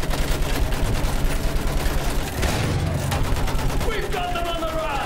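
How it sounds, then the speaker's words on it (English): Machine gun fire in the Battlefield 1 campaign, rapid rattling bursts in a steady stream up close, mixed with distant blasts and battlefield shouting. "Use that machine gun!"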